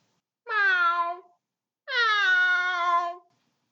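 A narrator's voice imitates a cat's meow twice in a row, two drawn-out, clear, close calls with a short pause between them and no other sound.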